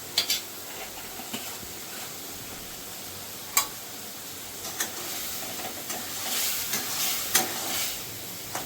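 Spice paste with tomato and a little sugar sizzling in a pan for paneer curry, a steady frying hiss broken by scattered scrapes and clicks of a spoon stirring, fairly quiet and with no voices.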